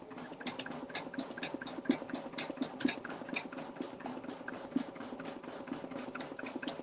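An embroidery machine stitches letters onto a tote bag, a quiet, fast, even mechanical chatter of needle strokes running continuously with a low motor hum underneath.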